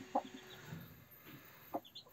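A hen, an Aseel breed, feeds her chicks in a coop, giving two short, soft clucks about a second and a half apart over quiet background.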